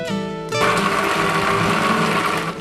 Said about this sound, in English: I put all the ingredients into the blender,